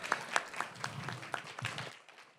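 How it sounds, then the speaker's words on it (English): A meeting audience claps for a group of immigration lawyers being honored, a short burst of scattered, uneven hand claps at moderate distance that thins out and fades within a couple of seconds. "Let's give them all a round of applause for."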